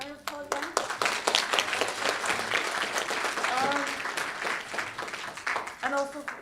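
An audience at a Learning Disability Wales annual conference in South Wales claps for a boys' trio performance, a dense burst of applause that rises and fades while voices talk over it.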